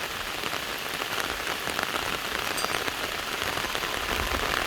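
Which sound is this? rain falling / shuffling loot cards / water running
rain falling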